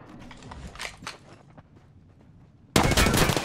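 Gunfire in the battle royale shooter Apex Legends: faint footsteps and quiet clicks give way to a sudden, loud broadband burst of close shooting that holds to the end.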